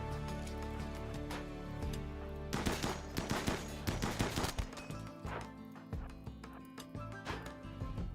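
Gunfire in the video game Water World, a burst of rapid sharp shots in the middle followed by scattered single cracks, moderately loud over a busy tonal game background, no talk.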